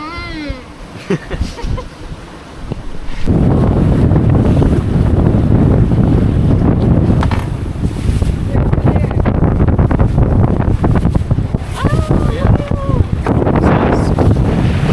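Strong wind roars across the microphone while a sailboat cuts through open sea off Fiji, a loud, continuous buffeting rush with waves and water splashing beneath, and voices heard briefly at the start.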